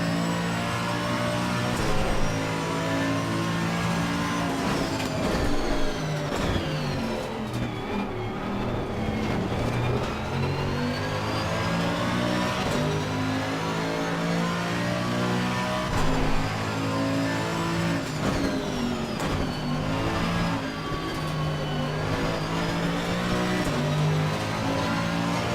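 A GT2 race car engine in a racing video game, heard from inside the car, revving and shifting continuously with rising and falling whine over about twenty-five seconds, loud and alone.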